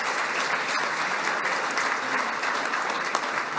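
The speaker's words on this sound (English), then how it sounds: "I'm going to ask everyone to hold their applause till we're finished with the whole group." Full audience applause at the 2023 IAHSS Foundation Celebration and Honors Gala, a continuous wash of many hands clapping at moderate level with no break.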